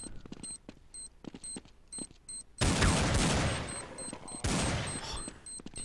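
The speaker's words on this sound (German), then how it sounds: "Die Deagles sind einfach so heftig." Counter-Strike match on de_mirage with Desert Eagle pistol fire: sparse sharp in-game shots and beeps, then a loud dense volley of gunfire from midway, with further crack-like shots near the end.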